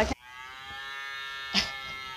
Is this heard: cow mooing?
yes